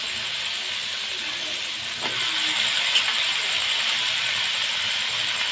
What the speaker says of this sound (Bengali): ফোড়নে এবার সবজিটা ভেজে নিতে হবে।